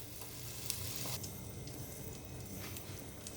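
Butter sizzles and crackles steadily in a hot pan on a gas stove as pav bhaji masala gets started, a dense close frying hiss with occasional small pops, no voices.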